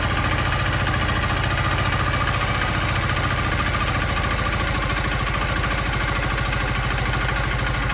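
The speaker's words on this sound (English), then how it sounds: "Might need to turn my idle down just a hair." Honda XR150L single-cylinder motorcycle engine idling steadily up close, a loud even thrum with a fast regular pulse and a slight drop in rev partway through as the idle is turned down, with no speech.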